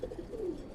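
A pigeon in a rooftop loft gives a short, close, low coo that wavers slightly over less than a second.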